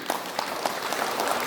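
Audience applause honoring laborers at a public gathering, a steady wash of many hands clapping with slight swells and no voices over it.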